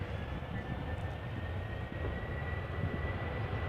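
An airplane departs Amsterdam Schiphol airport from runway 36C, a steady broad engine roar heard from a distance and holding level throughout.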